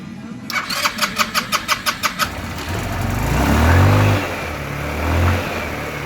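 A GY6 scooter engine with a hard-starting fault cranks with a rapid series of starter pulses, then catches and runs briefly, its revs rising and sagging, close by.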